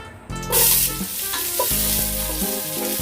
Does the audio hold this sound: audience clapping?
no